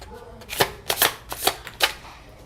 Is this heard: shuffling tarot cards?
yes